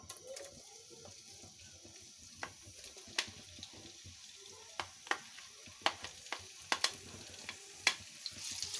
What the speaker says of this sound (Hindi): इसमें सबसे पहले मैं ये 1 कप ऑयल डाल रही हूँ और साथ ही इसमें ये प्याज डाल देंगे।